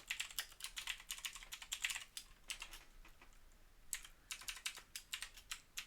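Typing on a computer keyboard for web authoring: bursts of quick, close key clicks in uneven runs, pausing briefly in the middle before resuming, with no voices.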